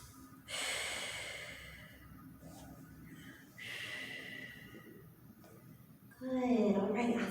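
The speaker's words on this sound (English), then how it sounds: "Stretch and breathe, releasing the hips. Deep breaths in and out." Deep, slow breaths in and out during a yoga and Pilates hip-opening stretch, each long inhale and exhale audible up close, separated by short quiet pauses.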